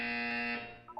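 Buzzer in the video game Portal 2, a single sustained electronic tone lasting about half a second and then fading, with a short faint blip after it.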